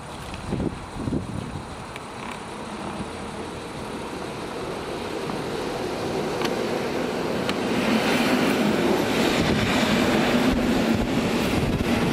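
A train pulls into a railway station at Łódź Chojny, a steady rumble building gradually with some wind noise, growing louder as it nears, with no talking.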